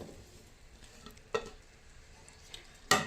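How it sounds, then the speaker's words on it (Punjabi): Potatoes tipped into a pan of sweet-sour spiced tamarind gravy, heard as a few soft thumps and stirring scrapes over a faint, quiet sizzle, ending with a sharper clatter. "ਇਹ ਹੁਣ ਇਹਦੇ ਵਿੱਚ ਪਾ ਦਿੰਦੇ ਆ ਅਸੀਂ ਆਲੂ"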